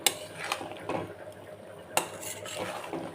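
A utensil scrapes and clinks against a pan while a poppy seed gravy mixture is stirred and sautéed, with a few sharper metallic knocks over a soft background sizzle; no talking.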